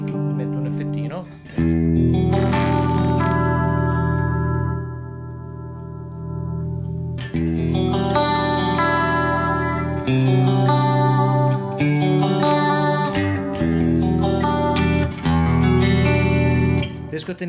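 An electric instrument played through a KOR effect pedal gives sustained, chorused and slightly distorted chords with echo and reverb, loud and ringing, with several new strums and a short gap near the start.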